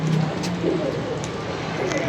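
Pigeons in a loft give soft, low, rolling coos, several overlapping in close succession against a faint murmur of background voices.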